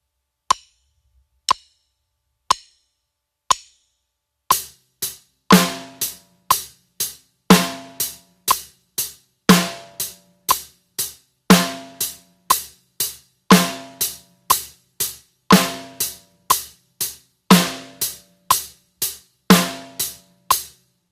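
A few sparse clicks, then a steady drum-kit beat: even hi-hat ticks with a sharper snare hit landing on beats 2 and 4, played alone.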